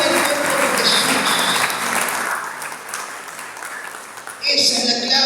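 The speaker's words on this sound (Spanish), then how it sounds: "¿Cuántos pueden darle un fuerte aplauso al Señor?" Church congregation bursts into loud, sustained applause that ebbs slightly midway, then swells again sharply near the end, with voices mixed into the clapping.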